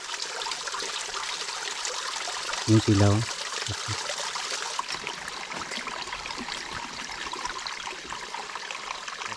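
Water trickles steadily at a forest spring, a soft constant flow, while someone speaks briefly and a couple of short knocks stand out near the start.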